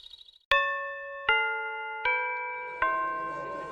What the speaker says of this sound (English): The bell rings at the same time.